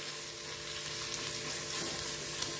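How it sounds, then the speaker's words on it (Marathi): Ingredients sauté in a hot pan for a puffed-rice bhel snack, a continuous close sizzle and fry with faint stirring scrapes throughout. "हे चांगलं परतून द्यायचे आपल्याला।"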